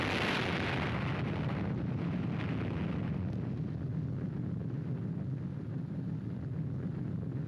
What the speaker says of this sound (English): This was the fiery birth of the atomic bomb